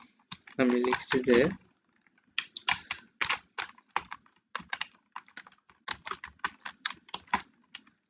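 Someone types on a computer keyboard in quick irregular bursts of close clicks and key taps, with a short spoken phrase at the start.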